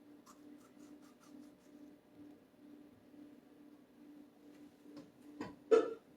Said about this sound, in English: So I'm going to cut the top out of it right quick.